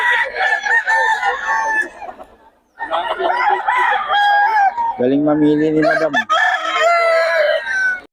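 A rooster crows loudly and repeatedly among clucking chickens from a Pangasinan seller, each long call rising and falling, with a person briefly speaking between them.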